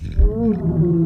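A low, rumbling growl with a wavering tone, swelling and sagging for about a second, close and fairly loud with no talking.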